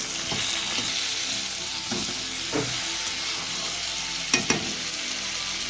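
Shol fish curry with tomato, green chilli and salt sizzles steadily in a frying pan, broken by several scraping stirs of a spoon at irregular intervals, with no one talking.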